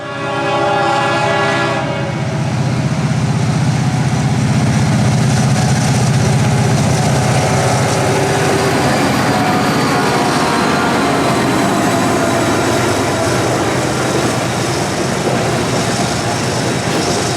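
A loud, steady diesel locomotive engine rumbles continuously with a deep low throb, a brief horn-like tone fading early on, heard close and without talk.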